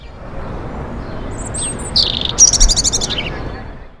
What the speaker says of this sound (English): This is a song of a male robin